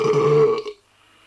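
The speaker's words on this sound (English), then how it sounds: "She finished with a colossal belch." One big, loud belch, close and resonant, lasting about half a second before cutting off into near silence.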